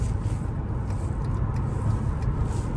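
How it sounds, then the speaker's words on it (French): Steady, loud engine rumble of a Mercedes C63 with a naturally aspirated 6-litre V8 driving, a deep continuous drone with road noise and no pauses. "Le son, le V8 Atmo"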